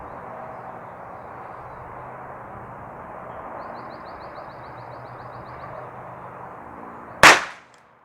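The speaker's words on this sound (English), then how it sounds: "let's go ahead and shoot 3 sighters, and then the 25 shots, and see how well it scores in today's conditions with this rifle" A single sharp rifle shot, fired from a bench at a target outdoors, cracks loudly and close after several seconds of steady low ambient hum, then decays briefly.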